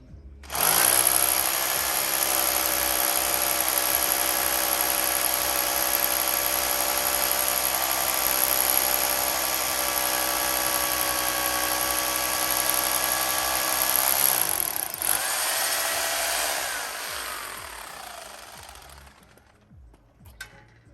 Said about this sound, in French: Je peux percer là, normalement.